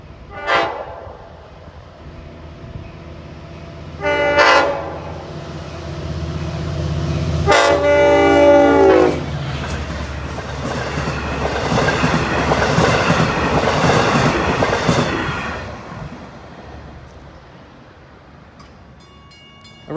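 An eastbound Long Island Rail Road train passes through Oakdale, its horn blaring in several loud, sustained blasts, followed by a long, rushing roar of wheels and cars that builds, holds steady and then fades away.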